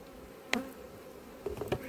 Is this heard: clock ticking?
no